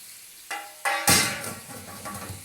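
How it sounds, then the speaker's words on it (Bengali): Chopped ginger, onion and garlic hit hot oil in a pan, bursting into a loud sizzle after a couple of soft clinks, then settling into a steady close crackle of frying. "আদা, পেঁয়াজ, রসুন আমি এই তেলের মধ্যে দিয়ে দিলাম।"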